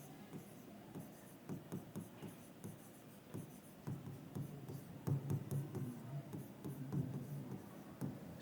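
Chalk or marker strokes on a board, a run of short, quiet scratching taps in uneven bursts, close and faint, with no voice.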